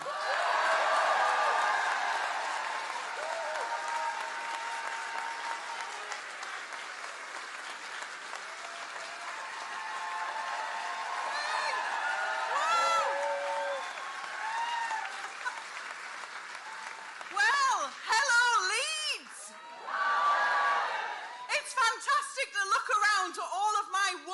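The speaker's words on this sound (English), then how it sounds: "Let's give a big round of applause" Audience at a Labour election campaign rally in Pudsey clapping steadily for a parliamentary candidate, with scattered cheers and chuckles, the applause breaking into shorter bursts near the end.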